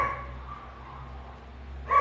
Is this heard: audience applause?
no